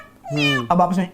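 A voice imitates a cat's meow, giving a drawn-out rising-falling mew followed by a shorter second call, close and clear, with speech around it.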